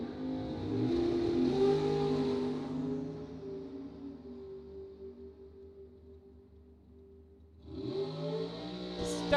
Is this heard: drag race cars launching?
yes